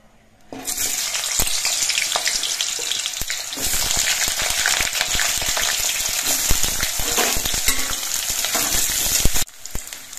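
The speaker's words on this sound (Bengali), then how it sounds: "সর্ষের তেলটা গরম হয়ে যাওয়ার পর প্রথমে আমি আলুগুলো ভেজে নিচ্ছি।" Potatoes fry in hot mustard oil in a wok, a loud steady sizzle filling the kitchen with scattered clicks and scrapes of stirring, ending abruptly.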